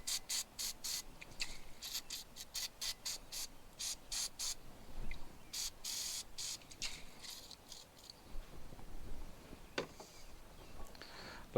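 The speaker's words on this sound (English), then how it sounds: "Take your brake fluid, spray it gently." Short hissing aerosol brake fluid spray bursts onto a marine spark plug, repeated in a quick, irregular series, close and moderately loud, with a faint liquid trickle between sprays.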